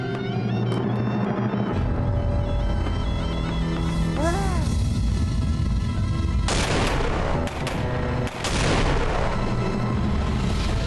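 Firecrackers go off during a Chaharshanbe Suri fire festival night, with loud sharp bangs and crackling bursts echoing over a busy background and a couple of heavier blasts standing out.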